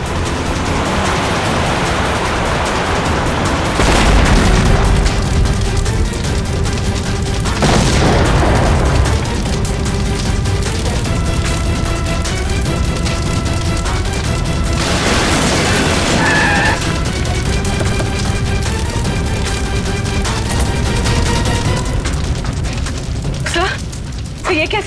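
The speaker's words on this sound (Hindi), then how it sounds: "लगता है इसकी गाड़ी में किसी ने बॉम्ब फिट कर रखा था।" A car bomb explosion in a deserted forest setting, heard as loud booming blasts with crashing debris and rumbling aftermath, with voices speaking in between.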